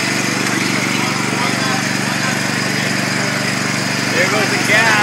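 A 10 kW generator set runs alongside an auger-fed reactor, cyclone and filter setup, producing a loud, steady engine drone with a constant rhythmic throb throughout.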